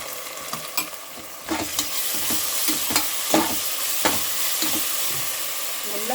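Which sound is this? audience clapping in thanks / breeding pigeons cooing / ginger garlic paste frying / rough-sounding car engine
ginger garlic paste frying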